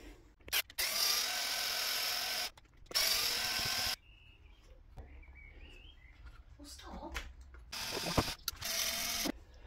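Screws being removed from the centre differential of an Omni Terminator RC car, heard as several loud whirring bursts from a small power driver separated by quieter handling and faint talk.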